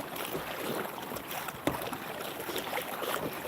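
A kayak passes downstream on a trout river, soft paddle splashes and water wash heard close over steady wind and flowing stream, with one sharper splash midway.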